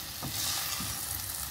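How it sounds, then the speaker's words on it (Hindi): Tahiri pulao with masala stirred in a pot: a few soft scraping strokes of a spoon over a steady close sizzle, with no talking. "अच्छी तरह से हम इसे चला लेंगे, साइड में जो भी मसाला लगा है"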